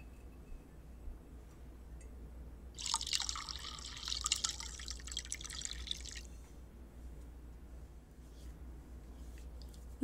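Red wine poured into a glass during a first-class flight attendant roleplay, a close trickling splash of about three seconds standing out over a quiet background hum.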